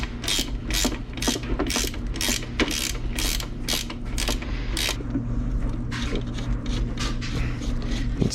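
Rapid ratchet wrench clicks in quick bursts while tightening a bolt on a Honda CRX SI during a hydraulic clutch conversion, close and crisp over a steady low engine-bay hum, pausing partway then resuming faintly.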